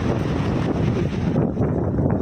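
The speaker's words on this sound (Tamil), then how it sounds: "காற்று அதிகமாக இருக்குது" Strong wind blowing on a hilltop, buffeting the microphone with a loud, steady roar and gusty rustle throughout.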